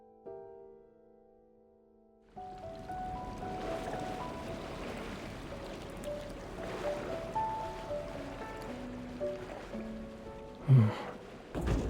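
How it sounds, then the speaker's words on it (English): Ocean waves washing ashore at night in Love and Deepspace, a soft steady surf that fades in after a quiet tonal opening and continues alone, with a short brighter chime near the end. "Listening to the ocean might help us fall asleep."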